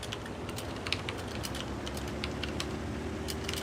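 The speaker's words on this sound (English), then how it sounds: "All I can hear is typing." Quiet typing on a computer keyboard plays over a steady low hum, with faint scattered key clicks running the whole time.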